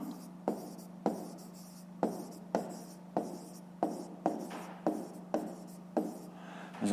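A pen writes a math exercise on paper in crisp, regular strokes, about one scratch every half second, over a low steady hum in a quiet room.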